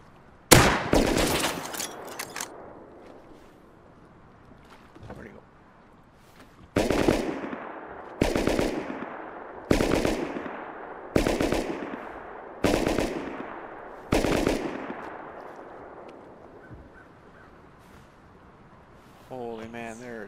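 Gunfire in the video game Rust: an opening burst of automatic fire, then a single shot, then a series of six or seven sharp, evenly spaced loud shots with echoing tails, and a voice briefly at the end.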